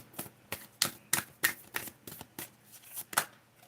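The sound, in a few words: shuffling a deck of Affirmators cards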